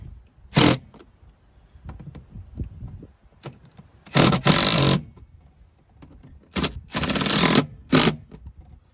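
Power screwdriver bit driving small screws into the window regulator of a 2010 Chrysler Sebring, several short bursts of loud whirring separated by quiet gaps and small handling clatter.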